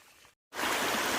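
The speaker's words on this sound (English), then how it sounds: "you see this little creek here, it drops right off over the edge there" A small creek pours over a rock edge, rising after a brief silence into a loud, steady, close rush of falling water that fills the rest of the clip.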